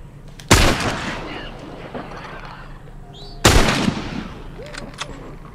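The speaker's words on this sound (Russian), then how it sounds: "Два выстрела." Gunshots in the video game The Last of Us, two loud sharp blasts about three seconds apart, each with a short echoing tail over low background game ambience.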